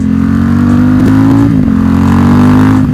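A Ducati XDiavel fitted with a clear clutch setup revs loudly and steadily up close, its engine note blipping and dipping through downshifts with no talk over it.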